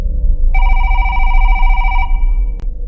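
An intercom buzzes with a steady electronic ringing tone lasting about one and a half seconds over low background hum, then a brief click.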